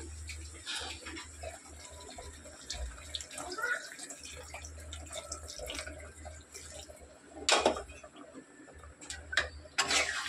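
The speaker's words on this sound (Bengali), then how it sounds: "তো চলো এবার আমি একটু জল অ্যাড করি, পরিমাণ মতন জল অ্যাড করে দেবো" Hot water is poured into a chicken curry cooking in a pan, giving a faint, steady splashing wash with a few louder sloshes near the end, low in level.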